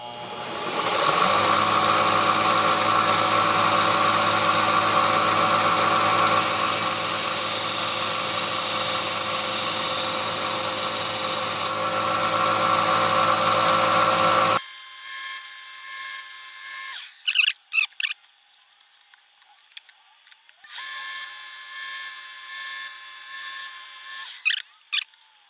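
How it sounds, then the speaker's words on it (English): A knife is sharpened on a powered sharpener, a loud steady high-pitched grinding whine held for about fifteen seconds, followed by quieter bursts of the machine starting and stopping in short runs. "we're about to give this knife a proper sharpening"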